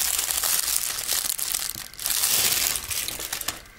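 A thin plastic bag holding a replica smartwatch crinkles and crackles up close in bursts of rustling as it is handled and pulled open.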